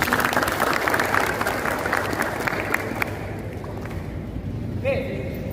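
Brief applause from students in a university class, clapping strongest at the start and fading over a few seconds, with room voices and murmuring mixed in.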